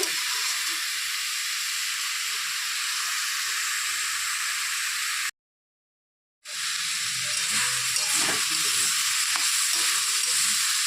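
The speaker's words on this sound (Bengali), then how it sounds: "একটু ভাজা ভাজা করে নেব" Bathua greens tossed with pre-fried eggplant sizzle and hiss in a hot pan, stirred with scraping knocks; the steady frying breaks for about a second of silence, then resumes with louder stirring clatter, close and without speech.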